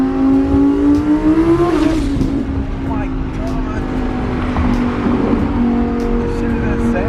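Twin-turbo Lamborghini pulling hard on a freeway, its engine note climbing in a steady rising drone that runs throughout under excited shouting from occupants.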